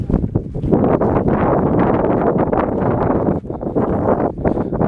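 Gusting wind buffets an outdoor microphone in open fields at a shooting range, producing a loud, continuous low rumble with brief dips and no talk.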